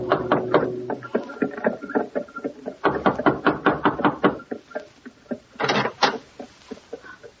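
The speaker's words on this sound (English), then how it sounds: "and knocked on a door." Knocking on a door as an old-time radio sound effect from a 1953 crime drama, a long series of sharp, loud raps in quick uneven bursts with short pauses, close and alone with no talk.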